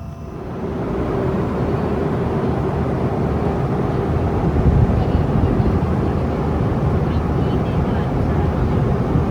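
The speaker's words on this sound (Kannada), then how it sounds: "ನೋಡಿ ಅಲ್ಲೊಂದು ಮಿನಿ ಫ್ಲೈಟ್ ಇದೆ." Small Star Air passenger plane at Kempegowda International Airport, a loud steady engine roar that rises after the opening second and holds broad and even, with a voice talking over it.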